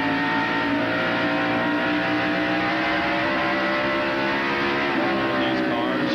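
A dense pack of NASCAR Winston Cup stock cars roars around the banked Bristol short track at the 1994 night race, a constant loud engine drone with shifting pitch, likely under faint commentary.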